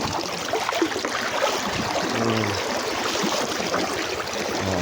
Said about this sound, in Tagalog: medyo malakas lang agos